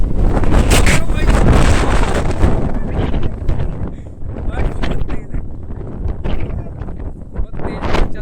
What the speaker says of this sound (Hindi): बहुत तेज हवा चल रही है गाइस।